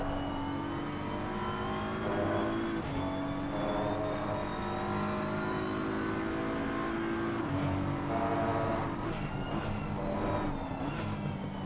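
A BMW GT3 race car in Assetto Corsa Competizione at Imola, heard from onboard: a steady engine drone that rises through the revs, drops briefly at each upshift, then climbs again, loud and continuous.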